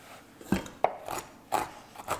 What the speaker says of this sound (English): Satisfying chopping up the peanuts.